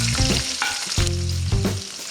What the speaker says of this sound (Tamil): அடுத்து நம்ம எடுத்து வச்சிருக்கிற வெங்காயத்தையும் போட்டுடலாம்.